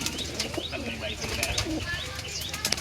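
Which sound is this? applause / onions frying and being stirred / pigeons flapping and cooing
pigeons flapping and cooing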